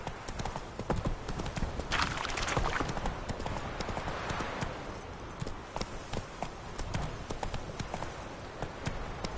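Horse hooves galloping in Witcher 3, a steady rapid clip-clop running through the whole stretch with a brief whinny and faint voices in the background.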